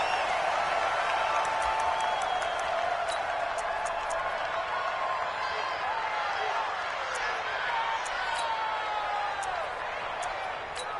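A stadium crowd roars in an NFL video game on PS4 at a Giants versus Bengals matchup, with a dense, steady wash of cheering and faint whistle-like tones throughout.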